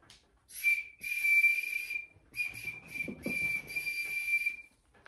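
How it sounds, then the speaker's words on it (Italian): A small boat-shaped toy whistle from an Easter egg is blown in a series of shrill, piercing toots, some short and some held for about a second, with brief breathy gaps and faint rustling between blasts. "è un fischietto a forma di barca o fischiettante"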